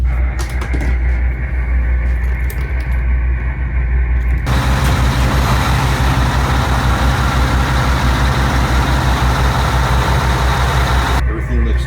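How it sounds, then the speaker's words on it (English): A diesel generator aboard a 1988 Hatteras 65C yacht runs steadily with a loud, low engine drone throughout, a brighter broadband roar rising over it for several seconds in the middle; voices are heard over it. "So now we have the generator running and warmed up."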